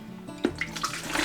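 Water is poured into a container on a kitchen scale for soap making, a brief close splashing trickle with a few sharper drips and gurgles.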